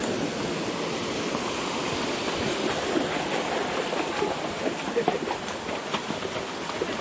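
Water from a small waterfall runs steadily in a stream, a continuous broadband rush at moderate level with no talk over it.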